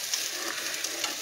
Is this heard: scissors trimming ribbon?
no